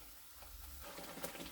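Spice paste with red chilli powder and jaggery powder frying in a pan, a steady close sizzle with faint scraping stir sounds and small crackles, no voices.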